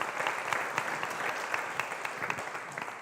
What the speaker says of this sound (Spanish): recibimos a Antonia Varela con un fuerte aplauso